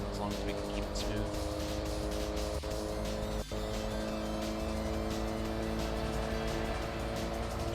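A video game race car engine hums at sustained high revs as it accelerates, with a couple of brief clicks and a voice talking over it.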